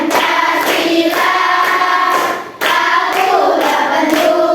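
A school class sings Garuda Pancasila and claps hands along in time, loud and close, with the voices carrying the tune and the claps running underneath with a short dip midway.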